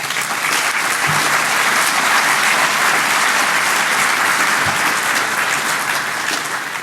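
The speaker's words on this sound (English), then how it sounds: "So I would request applause for these guys" Audience at the DEF CON 21 hacker conference applauding, a loud, dense and sustained roar of clapping that fills the room evenly from start to finish.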